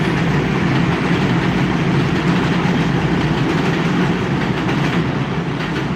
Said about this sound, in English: Oh my God, another train.